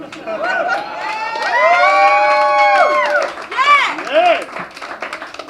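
Comedy open mic crowd in Las Vegas breaks into loud cheering, whoops and clapping, with raised shouting voices rising over steady applause, then fading toward the end.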